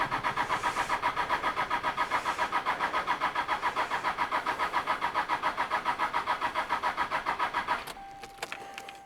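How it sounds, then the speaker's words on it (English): A Toyota Hilux 4x4 left parked for 14 years cranks over without firing, the starter churning in a fast, even rhythm for about eight seconds before stopping, followed by a few faint clicks. "It won't try to start. It should just turn over."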